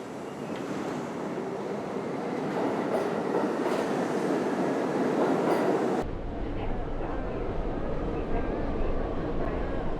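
A subway train runs with a continuous loud rumble and rattle of the carriages, the clatter steady throughout with an abrupt change in tone partway, as a voice speaks faintly over it.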